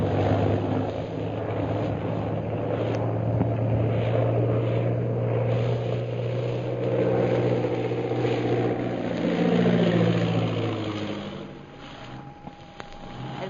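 A propeller airplane drones steadily as it circles in over hills to land, its engine tone loud and continuous, then sliding in pitch as it passes and fading slightly near the end, with no voices.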